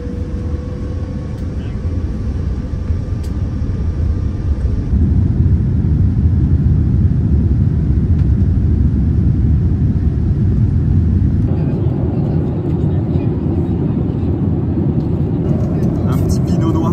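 Airplane cabin noise during a flight: a loud, steady low drone and rumble of engines and airflow fills the whole stretch without a break.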